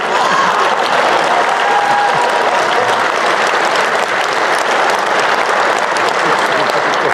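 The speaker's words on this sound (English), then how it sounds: "A big round of applause for the Timu version of me, everybody." Audience applause fills the room, a dense, loud, even wash of clapping that holds steady throughout with no talking over it.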